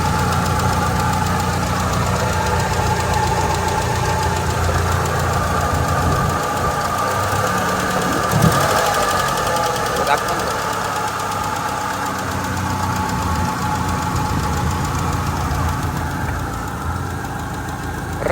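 A used, low-priced car's engine idles steadily at close range with a rough, knocking mechanical rumble that runs unbroken throughout, with no one talking.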